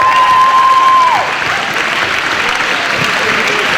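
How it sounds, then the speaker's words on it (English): An audience applauds at a national competition final, broad loud clapping with a brief steady electronic tone at the start and faint crowd noise beneath. "while you're clapping"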